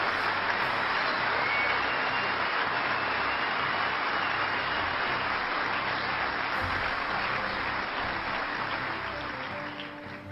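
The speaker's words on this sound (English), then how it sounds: "So give them a big round of applause." A crowd at a veterans jobs event in Golden Valley gives loud, sustained applause that holds steady and then begins to taper off near the end.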